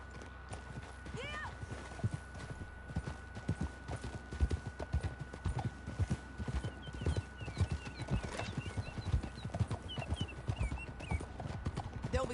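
Horse hooves clip-clop rapidly and steadily in a galloping rhythm in Red Dead Redemption 2, with occasional voices and a faint whinny over the running.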